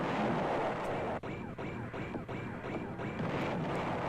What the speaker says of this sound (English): I used to love these explosion sounds